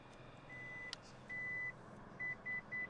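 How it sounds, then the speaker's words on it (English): A Lexus LX 600 power rear seat gives short electronic warning beeps, a long tone then several quick evenly spaced pips, faint and close over quiet cabin noise. "When you hear the beeps, let go of the button"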